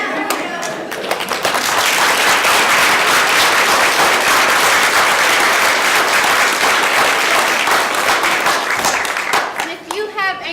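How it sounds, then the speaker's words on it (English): An audience claps for veterans standing up, dense sustained applause that swells quickly and fills nearly ten seconds before tapering off, with a voice returning at the end. "let's give them a round of applause"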